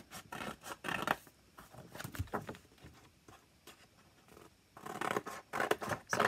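Scissors snip through paper being trimmed to size for a binder, with clusters of close, crisp cuts in bursts and a quieter pause in the middle, with no talking.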